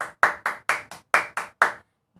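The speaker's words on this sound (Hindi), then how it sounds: "क्यों ना हम खुद के लिए तालियां बजाएं।" Sunday school children clap in a short, rhythmic burst of about eight sharp claps in an irregular beat, close and clear, then stop into silence.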